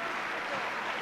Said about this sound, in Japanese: 早速このポゼッションスタイルにホームのサポーターから拍手が送られます